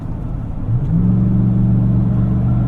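A 2018 Chevrolet Tahoe RST being driven through corners, its engine droning in a steady low hum that climbs in pitch partway through, over continuous road rumble, with no talking.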